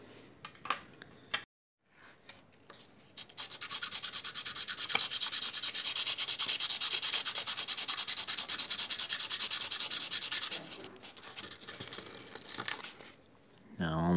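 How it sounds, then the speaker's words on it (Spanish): An overlock serger cutter blade is sharpened by hand against coarse sandpaper, making a close, continuous rasping scrape for several seconds, preceded and followed by brief handling clicks and rustles. "podemos utilizar la hoja de lija un poquitico más gruesecita y le seguimos haciendo hasta que el borde quede totalmente"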